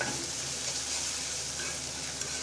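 Onion paste, chili powder, cumin powder and ginger-garlic paste frying in a pan, a continuous soft even sizzle throughout with no voices.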